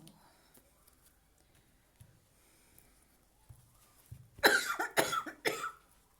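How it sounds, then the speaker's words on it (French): A few faint noises, then a burst of harsh, loud coughs in quick succession near the microphone. "Excusez-moi pour la toux."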